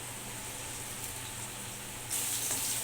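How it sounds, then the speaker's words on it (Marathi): Finely chopped onion sautés with green chilli in a pan for a papad chutney, giving a steady soft sizzle close by that grows brighter and louder near the end. "आता यामध्ये बारीक चिरलेला कांदा परतून घेऊया"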